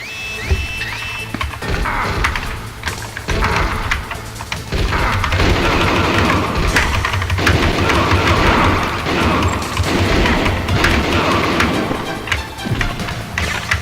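Gunfire in a video game firefight comes as dense, loud bursts of shots, crashes and booms that overlap almost continuously, with no talk.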